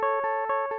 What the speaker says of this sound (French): La guitare sans aucun effet, c'est comme ça qu'elle sonne.